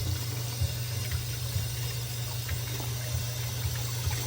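Hot tap water running steadily into a sink while hands and arms are scrubbed up to the elbows in a seafood kitchen, a constant close splash with small knocks and clicks mixed in.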